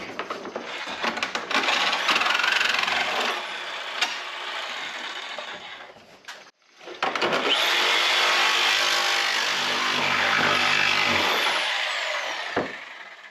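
A power saw cuts a hole through a cargo trailer roof, a loud, continuous buzzing, rattling cut that briefly stops and then resumes for a second long stretch, close with metallic clatter and no talking.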